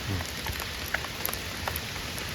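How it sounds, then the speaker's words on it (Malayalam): Light rain drizzles steadily, a soft continuous patter with a few sharper drops landing close by. "പക്ഷേ കാലാവസ്ഥ സീനാണ് മഴ അങ്ങനെ ചാർന്നിട്ടുണ്ട്"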